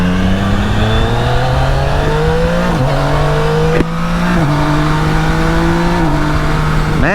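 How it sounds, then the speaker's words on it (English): A Yamaha Niken GT three-wheeled motorcycle's throaty exhaust, loud and close while riding, climbs in pitch as it accelerates, with quick dips at each gear change before it pulls up again. "Man, the exhaust sounds throaty too."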